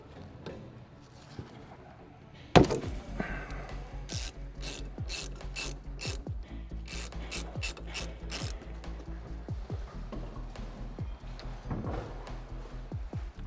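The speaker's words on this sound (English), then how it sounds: "take your 12mm socket and loosen the brake line from the caliper." A 12mm socket on a ratchet loosens a brake line from the caliper of a 2022+ GR86, starting with a sharp metallic knock and then running into a steady stream of close ratchet clicks with no talk.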